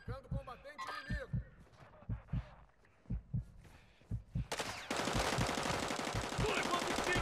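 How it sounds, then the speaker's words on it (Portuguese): Gunfire in Call of Duty Warzone DMZ on Xbox One: a string of separate sharp shots with thumping low-end hits, then dense sustained firing and noise in the last couple of seconds. "Tô levando tiro aqui!"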